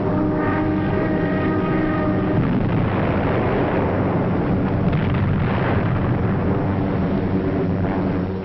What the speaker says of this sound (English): the ack-ack and gunfire seemed harmless and far away